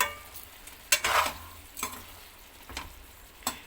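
Chicken frying in a pan on a stove and stirred, a low sizzle broken by several sharp scraping strokes of a spatula at uneven intervals, no speech.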